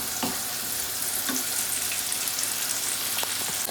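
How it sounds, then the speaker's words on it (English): Tomatoes, onions, green chilies and garlic frying in butter for a dal tarka, giving a steady, close crackling sizzle throughout with a couple of faint utensil taps. "It's a fried mixture of tomatoes, onions, green chilies, garlic, with pure butter and a bit of salt"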